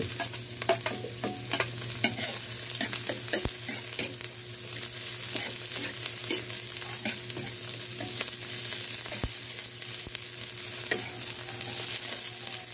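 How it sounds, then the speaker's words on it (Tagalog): Garlic, onion and red pepper sautéing in a pan, with a steady sizzle and frequent scrapes and clicks of a spatula stirring throughout, close and continuous with no talking. "Igisa-gisa lang na natin to hanggat makukuha natin yung aroma niya, yung bango."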